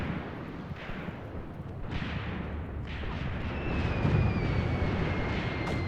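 Artillery bombardment in the WW2 battle game Graviteam Tactics on the Volkhov Front: a continuous rumbling roar of distant shelling, with several muffled blasts and a thin whistling tone rising near the end, growing louder toward the close.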